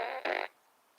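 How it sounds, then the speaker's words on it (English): A short, raspy fart bursts out in two loud pulses over about half a second, then fades into quiet room tone. "Everybody lean to one side. Fart out all of our frustrations"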